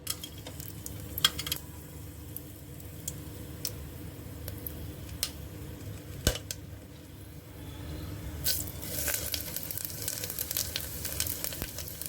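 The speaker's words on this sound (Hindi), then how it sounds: "अब हम इसमें जीरा और खड़े मसाले डाल देंगे, यानी कि हरी इलायची," Whole cumin, green cardamom, cinnamon and cloves crackle in hot oil for Kashmiri green beans, giving quiet, irregular sizzling and sharp pops that grow denser toward the end.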